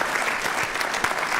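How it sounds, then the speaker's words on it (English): Steady, dense applause from a church congregation filling a sanctuary, loud and close, a brief continuous wash of many hands clapping. "Give yourselves a round of applause."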